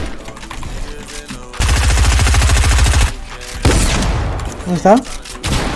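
Rapid automatic gunfire bursts from a first-person shooter game, loud and close, with a sustained volley in the middle and further shots, while a player speaks briefly over the action.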